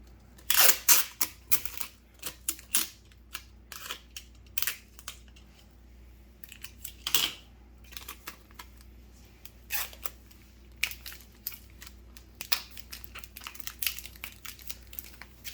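Scissors cutting through craft foam at close range, a run of sharp irregular snips and crunches with quiet pauses between bursts.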